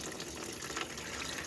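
Antifreeze mixed with a little old oil gushing out of a 1993 pickup's radiator during engine removal, a steady rushing pour with no pauses, fairly faint and with no voices.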